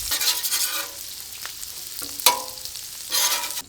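Bacon frying on a Blackstone griddle, a soft steady sizzle punctuated by scraping spatula strokes and a sharp clack of metal, loudest at the start and end.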